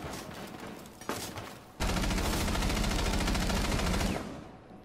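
Dense, sustained automatic gunfire from a Rainbow Six Siege match, starting with scattered shots, then swelling into a loud continuous burst of rapid fire that tapers off near the end.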